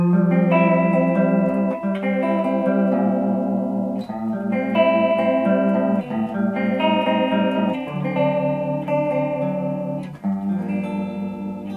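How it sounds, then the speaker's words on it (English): A guitar plays chords through a Guyatone MCm5 chorus effect, the tone wavering and slightly detuned, loud and continuous with no voices. "Gives you a slightly out of tune sound, slightly detuned sound."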